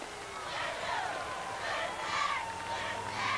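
Football fans of the Southwest Georgia Warriors cheering in the stands across the field at a 1998 GISA AA state championship game, a distant swelling crowd roar in waves under a commentator's voice.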